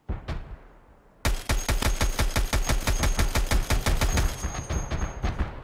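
A single shot rings out in an Escape from Tarkov match, then after a short pause a long, rapid burst of automatic fire rattles on for several seconds, loud and close.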